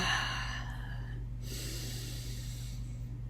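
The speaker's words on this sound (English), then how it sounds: "And so I breathe in." A deep breath drawn in slowly during a calming breathing exercise, one close, airy inhale lasting a few seconds over a low steady hum, with no words.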